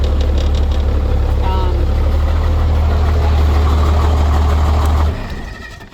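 A car engine runs after a jump start with a loud, close, steady low rumble that cuts out near the end, dropping to a quieter hum; there is no talking.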